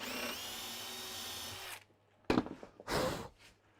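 A power drill bores a 5.5mm hole into a wooden Lutyens bench seat, whirring steadily for almost two seconds, then giving two short, separate bursts.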